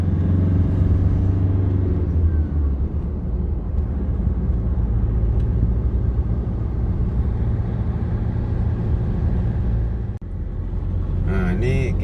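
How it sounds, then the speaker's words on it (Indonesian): Steady low rumble of road traffic stuck in a jam while leaving the town of Batu, with engines idling and humming continuously and nearby vehicles droning loudly throughout. "Ya Batu macet lagi bro."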